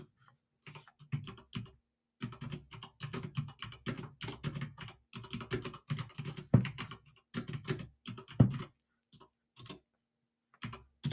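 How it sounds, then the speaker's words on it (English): Fast, steady typing on a computer keyboard in an indoor room, close and clear. Dense bursts of keystrokes are broken by short pauses, with a few heavier taps, and nobody speaks. "I can type."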